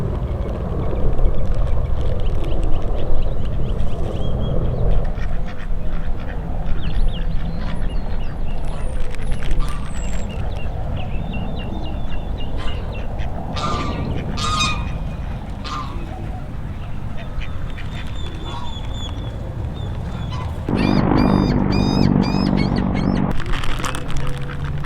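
Ducks and geese gather at a park pond while being fed peas, with repeated quacks and honks over a busy outdoor background; people talk nearby throughout.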